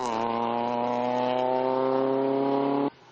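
An Innocenti Cooper rally car's engine drones loudly and steadily at a constant pitch during the Coupe des Sources 2011 rally, then cuts off abruptly near the end.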